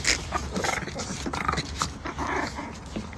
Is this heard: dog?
yes